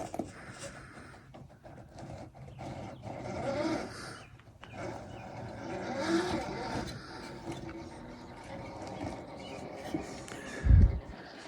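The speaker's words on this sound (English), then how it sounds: "That little fusion motor just crawls." A small RC crawler truck with a Fusion motor climbs an angled incline, its motor whirring and growling unevenly in rising and falling surges, ending with a sharp low thump.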